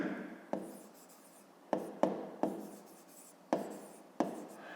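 Pen strokes on paper while working a 5th-grade maths exercise on the perimeter of a triangle, a sequence of brisk scratchy strokes, each starting with a sharp attack and trailing off, close and distinct, with no talking.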